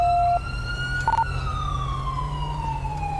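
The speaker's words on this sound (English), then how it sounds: "Ambient siren." A police siren in GTA V wails steadily over a low engine rumble during a bank robbery standoff, its pitch sliding and holding in a continuous electronic tone, with a brief chirp partway through.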